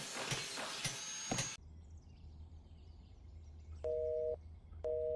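A burst of noise cuts off abruptly, then two short electronic beeps of a phone disconnect tone sound over quiet background hum.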